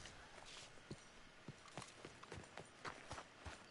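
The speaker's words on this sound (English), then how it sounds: "The horse just went all the way back there." Horse hooves clip-clopping in a video game, a run of distinct, fairly quiet hoof thuds at an irregular walking pace over a soft background ambience.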